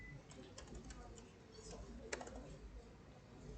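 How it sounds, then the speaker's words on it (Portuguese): Quiet, uneven clicking of fingers typing on a computer keyboard, a loose run of soft taps with one sharper keystroke, mixed with low background noise and a person talking faintly. "Tô continuando digitando do negócio inteiro."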